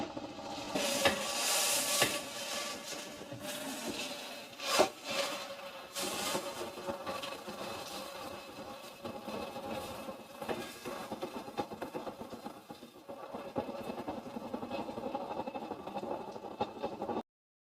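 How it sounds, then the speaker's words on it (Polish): A paint roller washer spins inside its closed lid with water running, giving a steady whirring, hissing wash that holds for the whole stretch with a few louder bumps early on, heard close and alone. "Słychać, że się kręci?"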